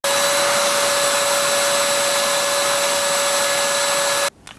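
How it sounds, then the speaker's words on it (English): A Bissell Pet Hair Eraser cordless handheld vacuum runs with a loud, steady motor whine and airflow rush that holds constant, then cuts off abruptly near the end, leaving only faint room sound. "that test came in at around a 71 decibels for the Bissell vacuum cleaner"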